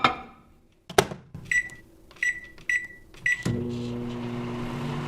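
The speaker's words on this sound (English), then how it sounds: "He melted it in the microwave." A microwave oven clicks shut, gives several short beeps, and then starts up with a steady, close hum.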